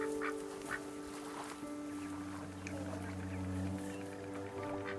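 Ducks quack faintly at a pond in the video game That Dragon, Cancer, scattered calls over a steady hum of ambience and soft background tones, with no clear talk.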